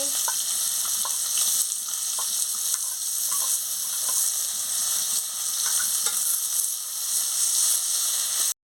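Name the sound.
chopped onion frying in hot oil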